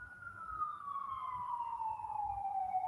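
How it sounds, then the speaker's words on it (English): An emergency vehicle siren wails as a single steady tone gliding slowly downward, heard at moderate distance over low background rumble. "Hear the sirens?"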